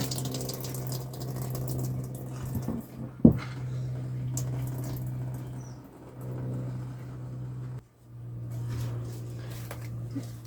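Liquid drained from a pan into a sink in a travel trailer kitchen while cooking homemade Chinese fried rice, a steady close trickle and splash with a brief clunk and a short pause.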